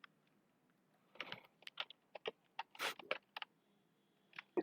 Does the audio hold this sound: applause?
no